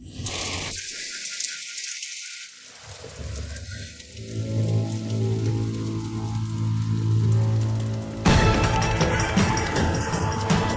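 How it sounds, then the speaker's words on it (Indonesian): Heavy rain pours steadily in a dense, hissing wash that fills the scene, shifting in texture as the surroundings change, with a louder, brighter downpour near the end. "Hujan deras begini"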